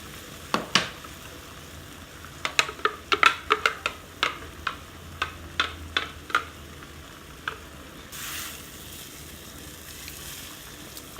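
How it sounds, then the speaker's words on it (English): Lamb and curry paste fry and get stirred in a pan, giving a steady low sizzle broken by a dozen or so sharp scraping clicks of a utensil. A brief louder hiss comes near the end. "And we just let that simmer for about 10 or 15 minutes until it's completely warmed through and you have your curry."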